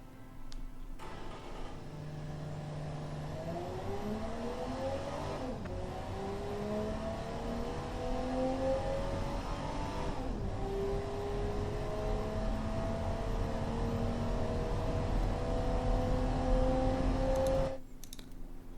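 A 1987 Athena SL5 accelerating through a quarter-mile run in the Automation car game, the engine note climbing steadily through repeated gear changes over about fifteen seconds and sounding alone.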